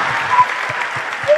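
A church congregation clapping to acclaim the Lord, a dense burst of applause filling the room, with voices mixed into the clapping.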